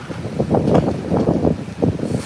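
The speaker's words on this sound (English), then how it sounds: "so show we have a good gust of wind." A strong gust of wind buffets an outdoor microphone at an airfield by a windsock, a rough low roar that swells and eases in pulses for a couple of seconds.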